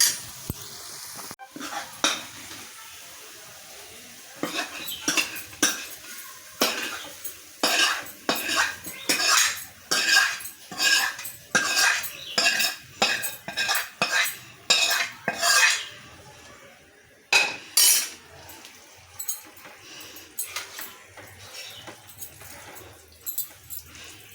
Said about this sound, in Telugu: ఇప్పుడు పోపు వేసేసుకోవడం అండి